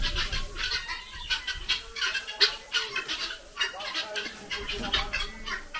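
Guinea fowl give repeated clucking, scratchy calls in an uneven rhythm, several birds close by and calling over one another throughout.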